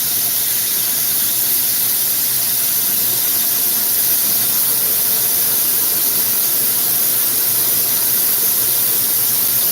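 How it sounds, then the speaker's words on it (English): Glassblowing torch flame roaring with a steady, loud, broadband hiss that stays constant throughout, sharpened for shaping a glass chillum. "Now I'm going to get a really sharp flame and make the chillum constriction"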